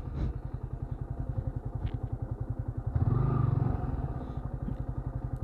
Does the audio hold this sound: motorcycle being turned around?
yes